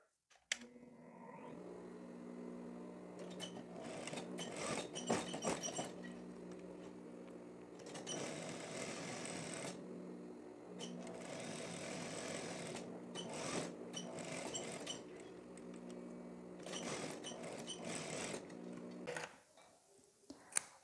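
A sewing machine stitches a shirt collar seam in fabric, running in several bursts of rapid mechanical whirring separated by short pauses and stops, close and clear with no talking.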